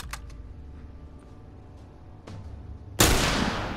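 A single loud, sudden gunshot from The Last of Us, ringing out after quiet ambient game noise and a few faint clicks.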